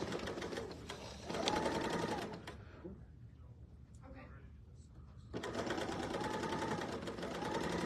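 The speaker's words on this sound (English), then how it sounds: "we're going to stitch from here down to the bottom right corner, and it's going to trim off again." A serger stitches and trims a quilt block with a fast, even mechanical whir that runs, pauses for a few seconds of near quiet, then starts up again, with a voice talking over it.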